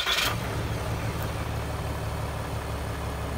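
A Ram 2500 diesel pickup catches and settles into a low, steady idle after a brief starter burst, the cold engine rumbling evenly and close with no voices.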